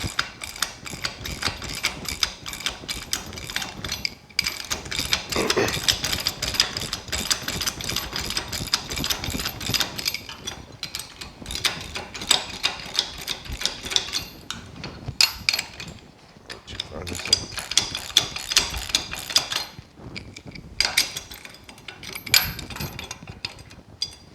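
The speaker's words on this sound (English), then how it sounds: "A 19mm socket. I'm going to take all this slack out of these bolts." A 19mm socket ratchet tightens bracket bolts on a 2018-or-later Honda Goldwing: bursts of rapid clicking from the pawl, close up and repeated across the work with short pauses between.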